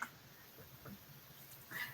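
A house cat meows faintly in a quiet indoor room, a couple of soft, brief calls near the start and end with near silence between.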